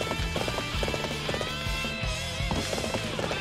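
Horse galloping in the video game Warriors Orochi 3, quick rhythmic hoofbeats pounding steadily and close over background game music and effects.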